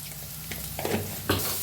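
Chopped onion and half a spoon of turmeric sizzle in hot oil in a pan while making a bread pakoda filling. A soft, steady frying hiss builds, with a few brief stirring bursts near the middle and end.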